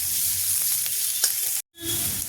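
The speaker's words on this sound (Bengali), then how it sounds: "গাজরটা একটু হালকা ভেজে নেব" Sliced carrots for fried rice hiss and crackle in a hot oiled pan as a spatula stirs them, a close steady sizzle broken by a brief cut to silence before resuming.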